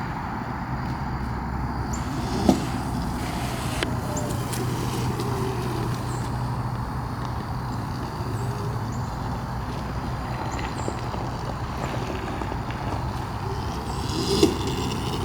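A homemade mini bike's small carburetor engine, freshly tuned, runs at a steady drone throughout, with a few faint clicks and knocks riding on the constant hum, and no one speaking.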